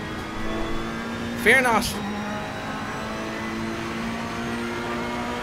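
Race cars including Porsches roar in Assetto Corsa Competizione online multi-class racing at Watkins Glen, a steady engine drone with a brief louder pass in the middle, while someone talks over it.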